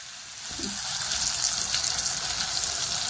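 Tomato pieces dropped into spiced masala frying in oil for a Bengali koi fish curry, bringing a steady close sizzle that swells and holds throughout, with a brief soft knock near the start.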